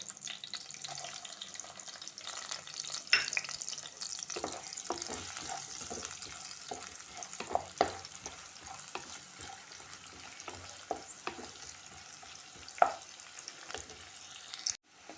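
Onion with green chillies frying in a pan for Malvani chicken masala, a continuous soft sizzle with repeated spatula scrapes and taps against the pan, fairly quiet and close.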